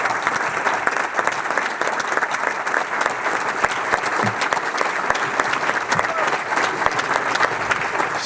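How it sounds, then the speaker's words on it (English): Dense, sustained applause from a seated audience as a guest named Mariam Nunez stands to be honored, a steady wash of many hands clapping at an even level throughout. "Give them a round of applause, please."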